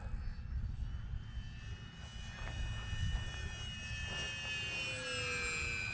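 Electric E-flite P-51 Mustang model plane, nicknamed Blondie and running on a 2200 4-cell battery, flying over a freshly cut grass field at Eastgate Park in Dothan, Alabama; a steady, fairly distant motor whine with a faint high tone holds throughout.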